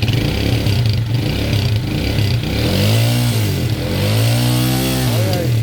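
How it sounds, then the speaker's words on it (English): A motorcycle engine revs loudly up close, holding a steady idle drone before rising and falling through several throttle blips in a rhythmic, wavering pitch, with no talking. "So you can rev the bike to feel how the rev feels."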